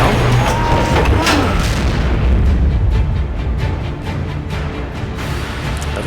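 Tank gun fire in a World of Tanks-style game, with long-range shots at an enemy tank. A heavy boom opens the clip, then rumbling low battle noise and a few fainter thuds follow, with no talking.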